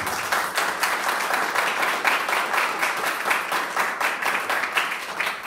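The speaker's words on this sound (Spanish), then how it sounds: "les pido un aplauso" Sustained applause from an audience at the closing session of a district electoral process, a dense, steady wash of many hands clapping at even loudness throughout, with no voices standing out.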